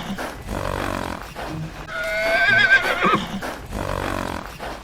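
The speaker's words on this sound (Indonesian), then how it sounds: "Kuda poni ya." A pony gives a single loud, close whinny, a drawn-out wavering neigh of about a second, surrounded by other clattering and rustling sounds.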